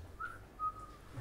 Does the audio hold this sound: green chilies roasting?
no